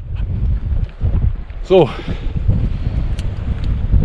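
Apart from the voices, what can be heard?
strong cold wind in snowstorm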